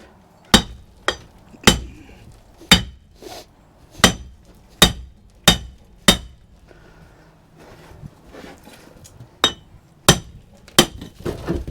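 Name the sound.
hammering a wheel hub off a homemade mini tractor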